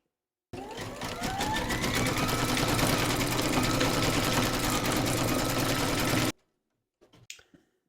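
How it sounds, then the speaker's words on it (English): An embroidery machine satin-stitches red thread around a heart on a gift card holder, a loud, fast, steady mechanical whir that starts abruptly and runs about six seconds before stopping, followed by a few faint clicks. "Load your matching bobbin and thread colour for the satin stitching around the heart into your machine, and then stitch round number 10"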